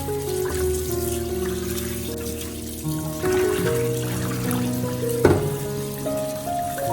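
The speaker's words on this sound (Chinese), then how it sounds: "把它放在流动的清水下，多冲洗几遍，多换几次水" Pork ribs rinse under a running kitchen tap, water trickling and splashing steadily at moderate level over a faint background hum, with one brief louder splash near the end.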